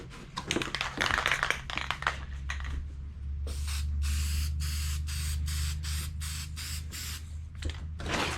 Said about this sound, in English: spray some etch primer on it